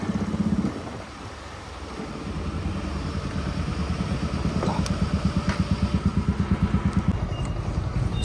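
A motorcycle idles at a roadside petrol pump with a steady, low, throbbing engine beat that grows more distinctly pulsed toward the end. The machine is close and fairly loud, and no one speaks.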